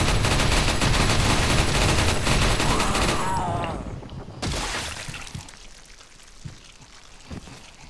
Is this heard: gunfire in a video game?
yes